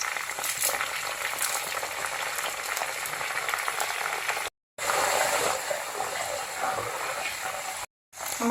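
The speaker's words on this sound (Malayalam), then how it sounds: "ഇനി നമുക്ക് ഓയിലോട്ട് കുറച്ച് കറി ലീവ്സ് ഇട്ട് കൊടുക്കാം." Plenty of fresh curry leaves drop into oil already frying ginger, garlic and chili for mango pickle. A loud, dense crackling sizzle rises close by and cuts out briefly twice.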